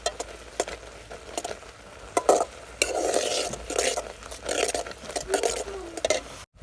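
Stir-frying with coconut milk in a pan, with repeated scraping and stirring clatter of a utensil against the pan over a soft sizzle, close by.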